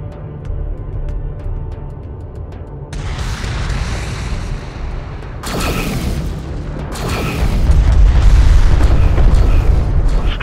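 A strike craft explodes in Homeworld: Deserts of Kharak. A low mechanical rumble breaks into heavy, booming blasts that build into a loud, sustained roar of detonations and debris, with no talk.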